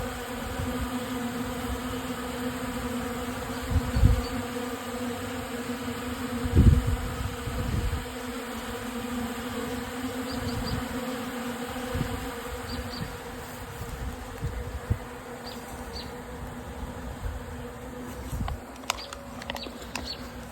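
Honeybees foraging on pollen substitute set out in the sun on a warm day, a steady low insect buzz running throughout with a few closer bees flying past the microphone.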